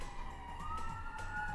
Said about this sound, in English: Everyone listen to the beautiful siren.